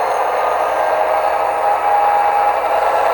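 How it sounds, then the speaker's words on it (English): A model locomotive's sound decoder plays a Tsunami2 diesel prime mover notching up under load, giving a steady, close, loud engine rumble with a faint high whine and no break. "now you're going to hear that locomotive notching up"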